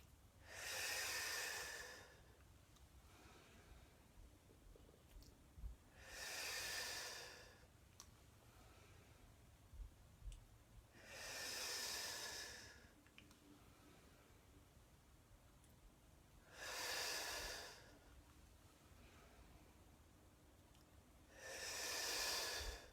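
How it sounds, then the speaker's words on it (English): Slow deep yoga breaths, five long airy inhales and exhales spaced several seconds apart, close and soft against a quiet room. "Big breaths here."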